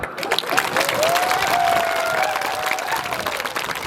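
A crowd at a tribal gathering claps for Droupadi Murmu in a loud, steady, sustained burst, with a faint tonal whistle or voice gliding over the applause.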